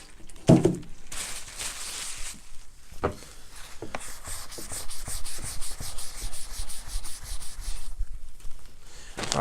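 A rag soaked in denatured alcohol scrubs back and forth over a primed surface, steady close rubbing strokes with a few soft knocks and brief pauses.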